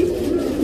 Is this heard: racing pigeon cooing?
yes